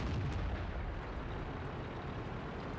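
Tank gunfire in the World of Tanks video game, a JT 88 tank destroyer: a muffled, booming shot at the start with a rumbling decay that fades into low background noise.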